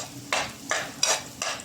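Ginger frying in a pan, stirred in four distinct scraping sweeps about a third of a second apart over a steady low sizzle, close and fairly loud, no voices.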